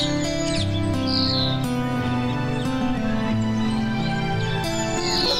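Birds chirping and calling in a large royal palace garden, with varied tweets over a continuous bed of tonal background music, fairly loud and steady with no talk.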